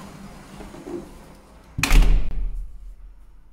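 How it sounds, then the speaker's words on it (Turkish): A house door is pushed shut with one loud, close thunk that rings briefly and fades away after quiet shuffling, with no talk. "Tekrar kapıyı kapatıyoruz"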